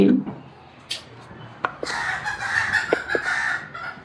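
Chickens cluck in a cage during cleaning, short clucks and calls over a busy background, with occasional knocks and clatter.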